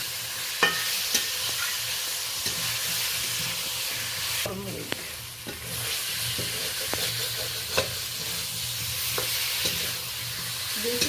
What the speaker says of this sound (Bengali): আলুটা নেড়ে নিচ্ছি